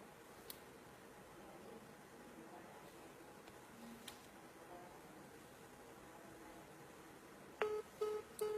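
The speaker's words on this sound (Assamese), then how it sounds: "আজি মই মোৰ মোবাইলটোৰ পৰা এয়াৰটেলৰ কাষ্টমাৰ কেয়াৰত ফোন কৰিছোঁ" A mobile phone on speakerphone dials Airtel customer care: faint hiss and soft ticks, then three short, clear tones in quick succession at the end.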